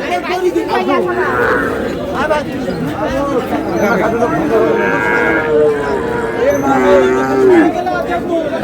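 Sahiwal cattle, including bulls, at a livestock market in Noakhali, Bangladesh, low and drawn out, repeatedly and close by over the steady chatter of a crowd and people talking.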